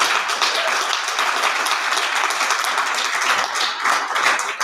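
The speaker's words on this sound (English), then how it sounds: "Let's have a round of applause for everybody who helped do that." An audience claps in sustained applause at a panel discussion event, a dense, even patter of many hands with no voices.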